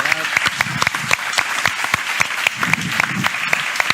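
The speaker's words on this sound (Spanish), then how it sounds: "una gran respuesta que merece un gran aplauso por esta mesa" Audience at a crime-novel prize event applauding a panel, close sharp claps over a dense crowd clapping, with voices murmuring underneath.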